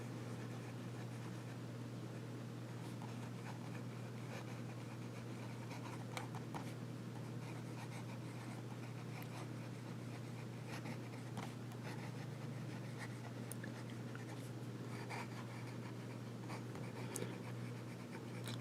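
A fine nickel nib on a Nemosine Fission fountain pen writes upside down on Rhodia paper, giving a faint, continuous scratchy scratching over a steady low hum, with a few small ticks along the way.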